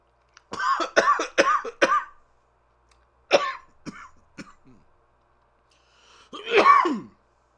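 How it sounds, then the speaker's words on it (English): Several sharp coughs in a quick burst, then a single cough after a pause, and a final harsher cough a few seconds later; close and fairly loud. "Okay, that cough was not the Ribena's fault."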